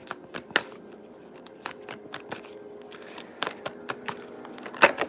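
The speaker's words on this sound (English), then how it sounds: "I'm going to shuffle one more time" Someone shuffles a deck of tarot cards, giving a run of sharp, irregular clicks and riffles, close and fairly quiet, with a louder flurry near the end and no talk.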